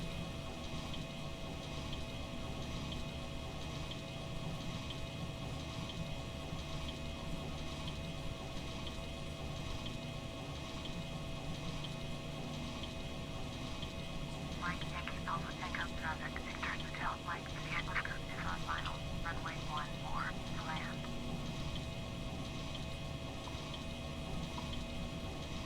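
An Aero Commander 500 Shrike on final approach in a Prepar3D flight simulator over the Bahamas, a steady, droning twin-engine hum throughout, with a brief burst of chirping clicks in the middle and a person talking over it.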